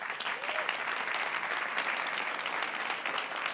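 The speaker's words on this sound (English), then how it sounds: "So please give them a round of applause." A community meeting audience applauds, honoring staff who worked on the sound: steady, dense clapping from a roomful of people, fairly loud and even throughout, with no voices over it.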